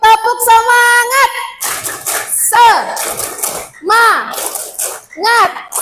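A teacher-training audience performs a chanted clapping cheer, with a voice calling out and sung, chant-like responses over bursts of rhythmic group clapping in repeated triple beats.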